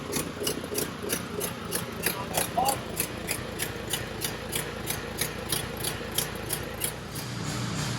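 The pump engine of a custom pressure washer mounted behind an RV runs with a quick, even chugging beat, steady and fairly close from start to finish.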